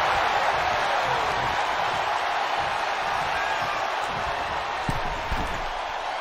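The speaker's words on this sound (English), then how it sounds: "you hear this capacity crowd following you on that journey" A large WWE wrestling arena crowd roars in a sustained, distant wash of cheering, with a couple of faint thuds near the end.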